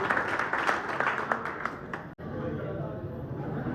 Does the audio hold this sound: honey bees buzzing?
no